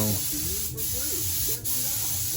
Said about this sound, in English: spraying the first coat of not self-etching, high build